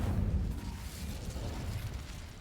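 Incendio fire spell blasting in Hogwarts Legacy, a low, muffled whoosh-boom that hits at once and trails off into a soft rumble.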